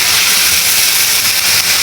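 Chopped onion being stirred as it fries in hot oil with mustard seeds, giving a loud, continuous close-up sizzle and hiss with no break.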